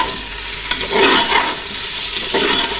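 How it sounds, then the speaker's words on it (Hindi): Chicken pieces fry in a pot of hot oil for yakhni pulao, a steady loud sizzle with stirring scrapes running throughout, close up and without talk. "ये कलर चेंज होने तक हम इसको फ्राई करेंगे।"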